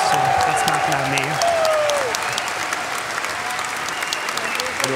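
An audience at an early-music concert of Monteverdi at a festival in Utrecht breaks into sustained, dense applause that fades slightly toward the end, with a voice speaking over the clapping.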